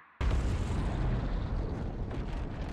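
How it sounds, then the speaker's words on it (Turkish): A sudden loud explosion bursts in after a moment of quiet, followed by a sustained, dense rumbling roar that slowly thins out, from the film The Batman. "Bak bu patlama oluyor."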